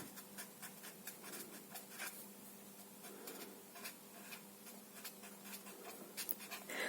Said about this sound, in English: So let me write it here, maybe.